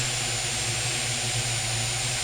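Drone propellers whine steadily at a constant pitch as the throttle is raised for takeoff, a loud, close, continuous motor drone with no talk over it.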